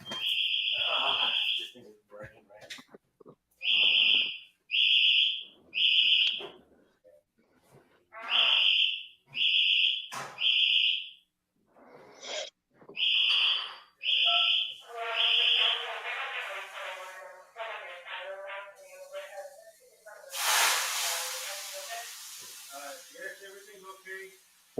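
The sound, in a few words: alarm going off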